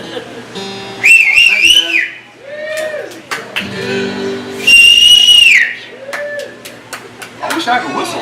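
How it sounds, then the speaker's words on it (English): Clear, melodic whistling with rising and falling notes in short phrases, close and loud, interspersed with brief vocal sounds. "I wish I could whistle like that."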